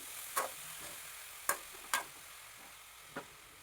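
Ponnankanni spinach thoran mixture being stirred in a pan: a few sharp, quiet spoon scrapes and clicks at irregular intervals over a soft, faint background hiss, with no talking.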